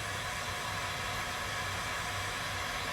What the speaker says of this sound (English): I'm gonna put my heat gun on it just for a second to help it dry just a tad.